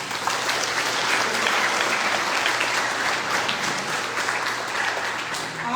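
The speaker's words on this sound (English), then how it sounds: "Give them a big round of applause." A county fair crowd at a royalty contest gives a big, sustained round of applause, dense clapping filling the whole stretch without any talk.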